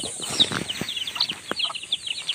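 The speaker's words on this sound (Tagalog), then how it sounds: "sumasalubong na yung ating mga sisiw sa atin" Young chicks crowding toward their keeper at feeding time, with a busy flutter of small wings and soft high peeps and scratching close by, rising and falling in quick bursts.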